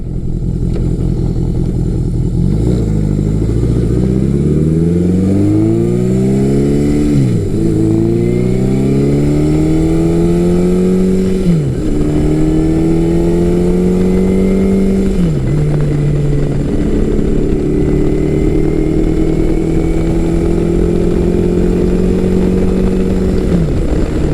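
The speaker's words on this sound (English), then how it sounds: "Both this bike and the Honda, they pick up speed quite nicely." A Yamaha XJ1100 Maxim motorcycle engine accelerates through several gears, each pitch climbing steadily then dropping at the shift, a loud continuous drone heard up close.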